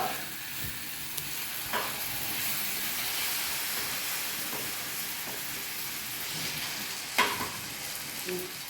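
Tomato chutney cooks in hot oil with a continuous sizzling hiss, broken by a few faint pops and a sharper crackle late on, with no voices.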